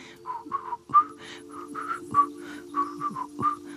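A series of short, slightly wavering whistled notes in a quick, uneven melody over a faint steady hum, from the video game The Last of Us Part II.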